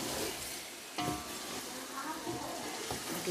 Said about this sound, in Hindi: इसको अच्छे से हम भूनेंगे